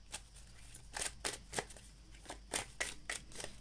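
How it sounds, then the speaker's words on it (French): Tarot cards shuffled by hand, a series of soft, quick riffling swishes at an irregular rhythm, faint and close, with no talking. "je vais venir mélanger mes cartes"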